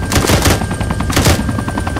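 Strafing gunfire from an aircraft in the video game Arma 3, a dense, continuous rattle of rapid shots with a low rumbling body, sustained loudly for the whole moment, with no talking.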